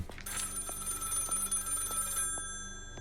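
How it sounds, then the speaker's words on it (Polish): Telephone ringing in the horror video game Maid of Sker, a repeated electronic ring with short pauses, loud and close, fading out after the last ring. "odbierz telefon"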